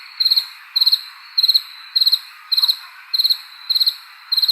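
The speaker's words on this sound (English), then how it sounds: "More crickets." A cricket chirps in steady repeated bursts, each a quick trill of several pulses, about two per second, close and clear over a faint hiss with no voices.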